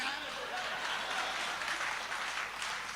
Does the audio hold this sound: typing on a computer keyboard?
no